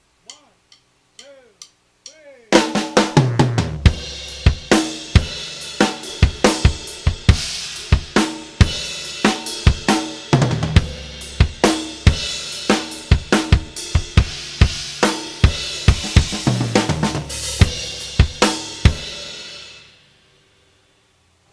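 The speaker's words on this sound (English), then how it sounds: "It's a double paradiddle 16th note triplet." Drum kit groove built on double paradiddle sixteenth-note triplets, with sharp steady hits and cymbals played loud and close for about seventeen seconds, after a few soft clicks at the start.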